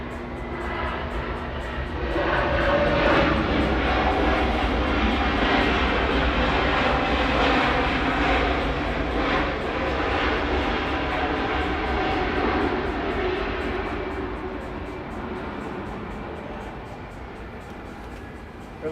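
A Boeing 717 jet airliner takes off at Atlanta, its engines building to a broad, steady roar that holds loud for most of the run before slowly easing as it climbs away.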